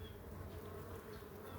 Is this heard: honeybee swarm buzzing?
yes